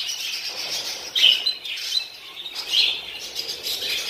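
Several budgerigars chirp and warble continuously in a busy, overlapping chatter inside a breeding room, close by with no voices.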